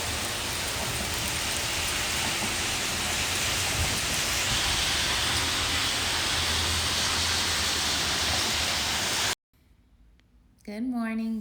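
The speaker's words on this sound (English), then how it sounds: "This is not the type of rain that floods, guys. This is the type of rain that grows stuff." Gentle rain falling steadily outdoors, a dense and even hiss of drops that runs alone for about nine seconds before cutting off, followed by a brief quiet gap and then a voice talking.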